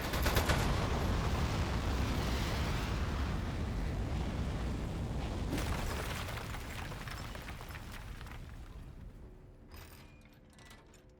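Gunfire and mechanical clatter from the video game Aperture Desk Job, a loud, dense burst of shots and whirring machinery that fades out over the last few seconds.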